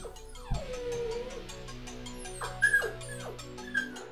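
Dogs and little puppies in cages whimper, yip and whine in a rising, falling series of calls, with one sharp thump near the start and several close yelps later over a steady hum.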